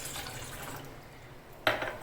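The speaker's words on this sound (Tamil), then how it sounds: "இதில் ஒரு டம்ளர் தண்ணி ஊற்றிக்கிறேன்" Water from a tumbler is poured into a pan for making agar jelly, a soft, close splashing pour with a brief clink near the end.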